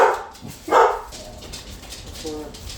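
A pet dog in a home kitchen barks twice, sharp and close, with a short gap between, then only low room noise and faint voices follow.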